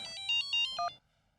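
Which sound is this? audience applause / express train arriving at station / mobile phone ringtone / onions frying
mobile phone ringtone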